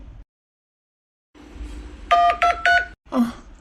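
Telephone call tones while dialling the 108 ambulance line: a brief hum, then three clipped electronic tone bursts and one more after a short gap, clear and close.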